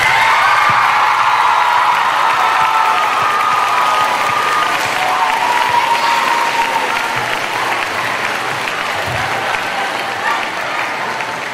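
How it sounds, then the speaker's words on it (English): A middle school diversity day audience breaks into sustained applause, dense, loud and steady throughout, with a few faint cheers mixed in and no clear talking. "Please give them a round of applause."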